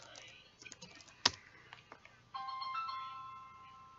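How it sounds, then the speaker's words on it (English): A mobile phone ringtone plays faintly as a steady electronic melody in its last couple of seconds, following a patter of soft keyboard clicks and taps. "My mom's phone is ringing, sorry."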